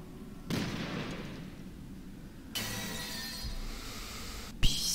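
A sharp burst like a gunshot in the video game Resident Evil Revelations 2, then a second loud crack with a rush of noise, and a brief snap near the end, with no talking.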